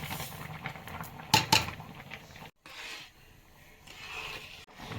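Rice pudding with milk, cardamom and sugar is stirred in a pot, giving a soft scraping rub with a couple of sharp metal clinks of a spoon against the pot.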